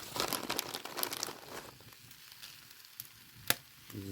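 Tortillas filled as pizza burritos browning in a frying pan give off a soft crackling sizzle with papery crinkles, busier at first and then thinning to a faint hiss, with a few sharper clicks near the end.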